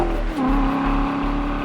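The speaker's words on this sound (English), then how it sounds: "Our touring technology gives you a low volume rumble that's slightly louder than stock under idle and cruise, but really wakes up when you squeeze the throttle." A Corvette C7 fitted with a Borla touring exhaust rumbles loudly up close, its deep engine note rising in a short rev with a brief pitch swoop before holding a steady growl, with no talk.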